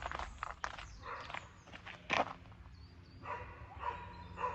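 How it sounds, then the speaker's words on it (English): Somewhere in the English countryside, a dog and a horse are heard at a distance, with faint scuffling steps and a few short, sharp calls over quiet outdoor ambience. "That dog sounds excited, and that horse sounds very scared"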